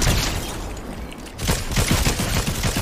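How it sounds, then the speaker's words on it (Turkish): Bursts of rapid gunfire in a Fortnite match, loud and close, with a quieter rattle at the start and then dense shots from about halfway through. "Kim vuruyor lan bana?"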